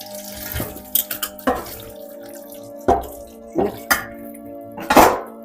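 Dishes are washed and scrubbed under running water: loud close clatters of pots and plates knock together in uneven bursts over a continuous splashing flow, with a faint steady tonal hum in the background.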